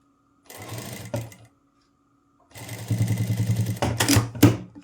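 A sewing machine stitches blouse fabric in short runs, a brief whirring burst and then a longer steady rhythmic chatter that speeds up near the end. It sounds close, with no voices over it.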